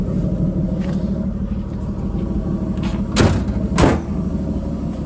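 A 1956 Chevy 210 with its 235 engine idles in a steady, low rumble nearby, while two short thumps, like car doors, stand out partway through; no one speaks.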